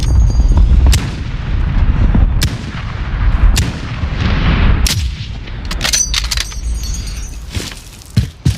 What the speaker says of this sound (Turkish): Airstrike at oraya.